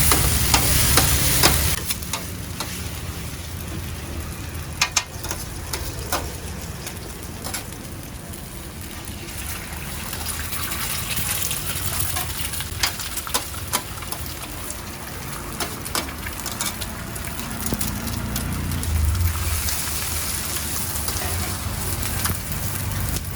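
Noodles stir-fried with beef, fish paste and soy fibre at a Cambodian street stall, a dense continuous sizzle with scattered clicks and scrapes of the spatula against the pan, close and steady throughout, no talking.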